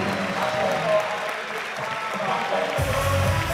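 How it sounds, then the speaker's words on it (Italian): A crowd at a basketball all-star game applauds the winner of the three-point contest, a steady wash of clapping and cheering with a voice mixed in. "E si merita gli applausi del pubblico"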